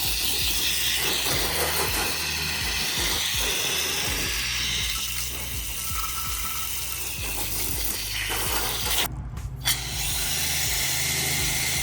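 A garden hose with a foam cannon sprays a car outdoors, a steady loud hiss of rushing water that runs throughout and cuts off briefly near the end.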